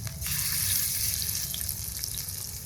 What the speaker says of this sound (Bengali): এটা ফ্রাই করার জন্য তাওয়াতে অল্প সর্ষের তেল দিলাম, তেলও গরম হয়ে গেছে, এখনই পিসগুলো দিয়ে দিব